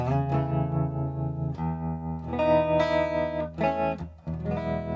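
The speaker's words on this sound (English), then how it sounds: "It's a really, really smooth tremolo." Electric guitar played through a tube amp with a smooth, fairly fast tremolo, sustained chords pulsing steadily in volume, loud and close with no talking.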